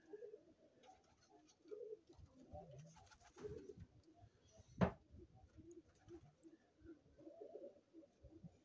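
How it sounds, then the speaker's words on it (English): Pigeons of a standard domestic type cooing softly in a loft at the start of breeding season, low repeated coos scattered through the clip with one sharp brief knock near the middle. "They're more standard looking pigeons"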